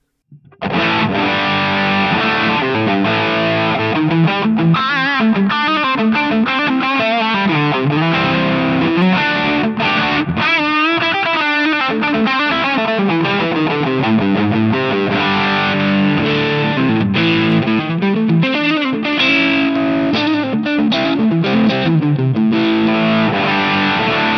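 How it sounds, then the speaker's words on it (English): Electric guitar played through a Mooer GTRS P800 with smooth distortion and a delay trailing each note, a continuous melodic line of held notes and runs, loud and up close. "So nice smooth kind of distortion, bit of delay on there"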